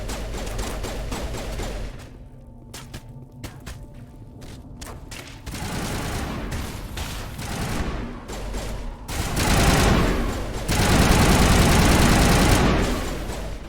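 Rapid automatic gunfire from the video game Mass Effect 1 Legendary Edition, dense bursts of shots with pauses and heavier sustained volleys toward the end over a low engine-like rumble, loud and close.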